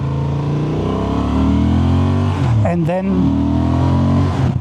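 A Honda Transalp 750 motorcycle engine revs and pulls under acceleration, rising in pitch through a gear change, loud and close beneath a rider speaking briefly.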